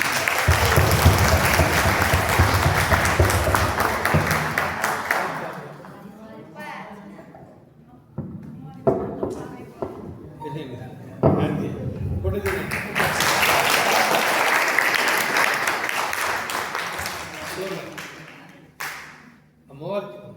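An audience applauds loudly for several seconds, the clapping fades, then swells again into a second long round before dying away.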